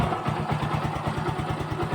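A restored Yamaha FZ-S motorcycle, freshly rebored, fires up and settles into a steady, even idle with a close, rhythmic thumping exhaust pulse and mechanical clatter throughout.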